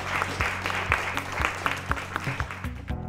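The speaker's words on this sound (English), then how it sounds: "Everybody make some noise for Drake Hemby." A crowd claps steadily for a high school student signing a fishing scholarship to Carson Newman University, with individual claps standing out in an even, sustained round of applause.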